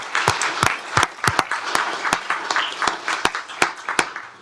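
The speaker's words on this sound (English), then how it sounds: "Let's give him a round of applause." Applause in a county commissioners court as an employee is recognised for 25 years of service, a modest group clapping steadily with sharp individual claps standing out throughout.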